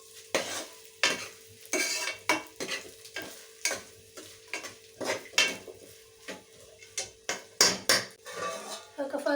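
Fish curry masala frying in oil in a pan, with a spoon repeatedly stirring and scraping against the metal in irregular bursts over a low background hum, close and fairly loud.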